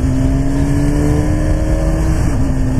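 A BMW S1000RR motorcycle engine, heard close and loud, holds a steady high-revving note, then drops briefly near the end as if shifting gear.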